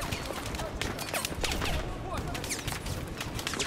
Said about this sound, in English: there's just bullets flying everywhere